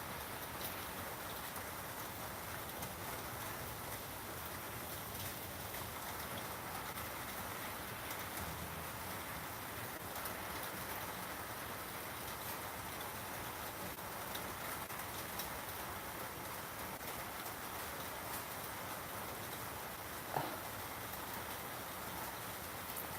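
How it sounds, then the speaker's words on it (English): Constant, steady rain keeps falling without pause in a soft, even wash of hiss, with one small tap near the end and no talking. "it's still raining. It's just a constant rain."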